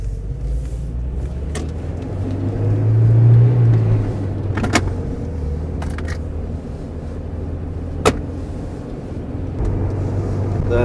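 A 2015 UAZ Patriot off-road vehicle driving on an off-road test drive: a steady low engine and road rumble heard from inside the cabin, swelling briefly, with occasional sharp knocks and rattles.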